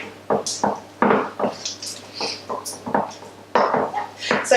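A wooden spoon beats butter in a mixing bowl for a giant Valentine's cookie, making repeated rhythmic knocks and scraping clatters against the bowl, close and fairly loud, with no talk over them.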